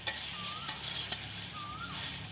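Luffa gourd fries in hot oil with a soft continuous sizzle while a utensil stirs it, giving a few light scrapes and taps, close and brief.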